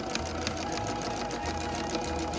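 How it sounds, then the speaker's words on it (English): Sewing machine stitching a quilted Christmas stocking, running steadily with a fast, even motor hum and needle chatter for the whole stretch, close and moderately quiet. "I could go back over that and stitch just a little bit below that line"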